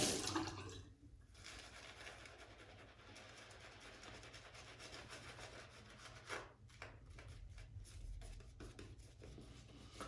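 A shaving brush whips Gillette Pure Impressions shaving soap with added water, a continuous soft wet rubbing and swishing close by, steady throughout with slight rhythmic strokes.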